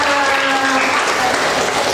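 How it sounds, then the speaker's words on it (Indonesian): Classroom audience applauds students at a Mother's Day writing activity, a dense, loud burst of clapping with faint voices mixed underneath. "Kasih tepuk tangan dong buat semua"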